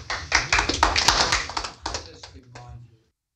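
A brief burst of scattered applause with a few whoops from an audience at a council meeting, loud at first and thinning out before stopping.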